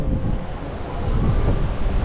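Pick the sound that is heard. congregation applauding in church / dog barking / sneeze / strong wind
strong wind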